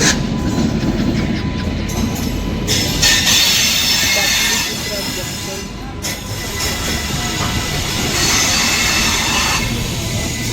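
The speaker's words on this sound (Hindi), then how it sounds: "पाटलिपुत्रा जंक्शन से हम लोग डिपार्चर कर रहे हैं और ये अपना रफ्तार में आ चुका है" The Jaynagar Intercity Express gathers speed after leaving Pataliputra Junction, a loud, continuous rumble of rolling wheels with squealing metal and rail clatter heard from inside. Someone talks over it.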